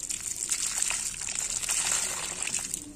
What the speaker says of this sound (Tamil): செடிக்கு நம்ம இப்போ தண்ணி ஊற்றிடலாம்